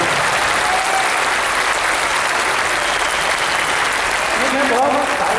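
Dense, sustained applause from an audience at an academy program event in Bhilwara, a steady wash of many hands clapping that fills the whole stretch with slight swelling near the end.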